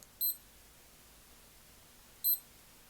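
Cheap fake Casio digital watch alarm: two short bursts of high, thin electronic beeping about two seconds apart, clear against near silence.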